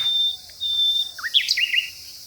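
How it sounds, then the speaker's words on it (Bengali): Birds chirp and insects buzz in foggy dawn forest near Lepchakha in the Dooars hills, with a thin high insect whine joined by a quick run of clear, close bird calls. "পাখির আওয়াজ আর এই গাছের পোকামাকড়ের আওয়াজ ছাড়া কিচ্ছু নেই।"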